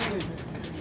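Soft, low cooing from pigeons in a loft, brief and murmuring, with a faint hiss of background noise.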